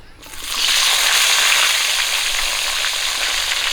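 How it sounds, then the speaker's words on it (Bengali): A sudden burst of loud sizzling as eggplant pieces hit hot oil, settling into a steady, close crackling fry that continues without talk. "মাছ ভাজা তেলেই আমি বেগুনগুলো ভেজে নেব"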